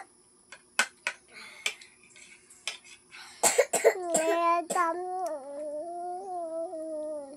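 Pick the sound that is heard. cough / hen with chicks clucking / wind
cough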